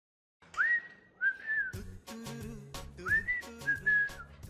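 Someone whistles two short, bright melodic phrases close by, in a quiet indoor scene while packing for a trip, with soft clattering and background music underneath.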